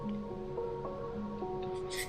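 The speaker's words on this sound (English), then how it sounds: "So I'm going to drop a couple of drops of water in first." A couple of water drops fall into the paint cup of a Paasche VJR 0.25mm airbrush, giving small soft wet plips over a faint steady hum, with a brief splashy burst near the end.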